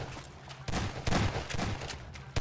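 Gunfire in a Garry's Mod horror map game, several sharp, loud shots fired in an uneven burst of about six or seven reports over a couple of seconds.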